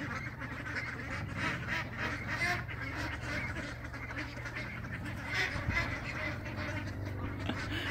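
Ducks quack and honk continuously in a noisy flock, close by, with overlapping calls and no talking.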